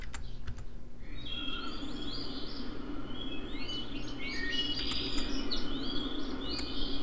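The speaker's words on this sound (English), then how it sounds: "here is what the bird comp actually sounds like as it fades in" Chirping birdsong rings out over a steady low rumbling hum, with repeated bright trills and calls layered into a continuous ambience.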